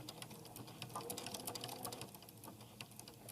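A sewing machine runs steadily while stitching a small washcloth, its fast rhythmic needle chatter close and continuous with no talking.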